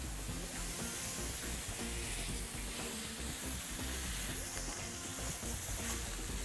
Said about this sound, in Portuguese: Mas pra carne é inevitável. Tem que selar para preservar o suco dela